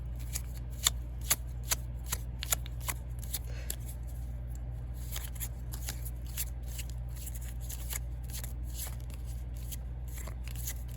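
A small deck of roughly twenty cards being shuffled by hand, a quiet series of crisp riffles and snaps in irregular bursts over a steady low room hum.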